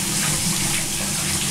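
A shower runs steadily in a bathroom while an Entlebucher dog is bathed, giving a continuous close hiss and splash of water with no speech.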